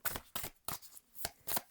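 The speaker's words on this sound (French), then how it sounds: "je prends une dernière carte pour vous." Oracle cards are shuffled in five quick, soft riffling bursts at an even rhythm, close and quiet with nothing else heard.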